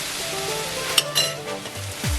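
Five medium onions, sliced, sizzle in three tablespoons of oil over medium heat, a steady crackle close by, with a few clinks of a utensil against the pan and no talk.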